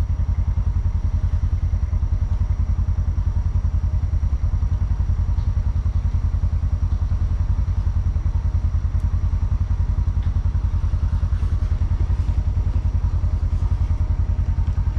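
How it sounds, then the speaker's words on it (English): A tractor with a front end loader runs close by at a steady, loud, chugging idle, a constant low mechanical rumble with faint clatter throughout. "Got it in the front end loader"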